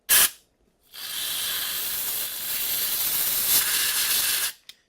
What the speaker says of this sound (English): So we're just going to spray these out.